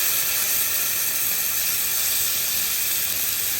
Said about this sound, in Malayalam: ഈ പാൻ നന്നായിട്ട് ചൂടായി കഴിയുമ്പോൾ നമുക്ക് അതിനകത്തോട്ട് ചിക്കൻ ഇട്ട് 2 സൈഡും വെറുതെ ഒന്ന് ഗ്രില്ല് ചെയ്ത്